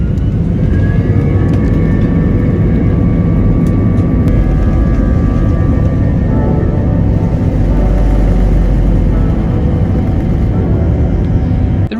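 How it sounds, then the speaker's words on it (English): Airbus A320 jet engines spinning up on the ground at Kilimanjaro, a loud continuous roar and rumble with rising whining tones building steadily throughout, heard close up from inside the cabin. "the engine started up and we got on our way for the long trek north to Doha"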